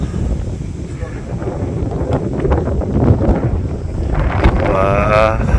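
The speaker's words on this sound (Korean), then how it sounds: "바람 불기 시작했네" Strong wind buffets and roars across an open golf course, a continuous loud rushing noise with gusting swells and no clear voices.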